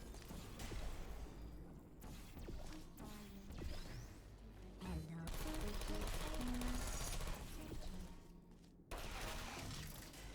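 Turrets in the video game Portal 2 open fire in loud rapid bursts, with crashing impacts and mechanical whirs between volleys; no talking.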